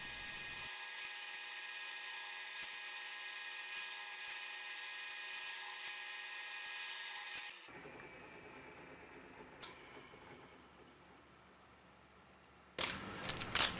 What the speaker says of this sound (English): And then just keep spinning it and keep drilling it.